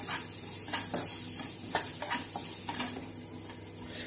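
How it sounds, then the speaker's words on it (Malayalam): Sliced onions, salted for a green peas kurma, sauté in a pan with a steady close sizzle broken by repeated scraping stirs of a spoon. "ഇത് നന്നായിട്ടാണ് വഴറ്റി കൊടുക്കാം."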